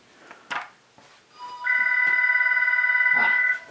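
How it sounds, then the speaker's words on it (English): Telephone ringing, a loud electronic ring held for about two seconds with a fast warbling pulse, following a few handling knocks and light talk. "the phone is ringing"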